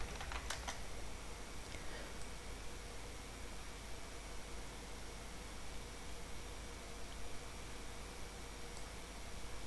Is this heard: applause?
no